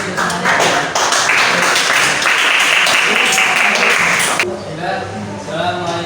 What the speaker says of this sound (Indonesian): beri aplaus untuk semuanya